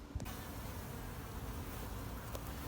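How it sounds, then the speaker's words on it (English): Honeybees buzz at the entrance of an active colony. The dense, steady hum carries a few louder passes of individual bees flying close. "So here we can see the entrance to an active honeybee colony."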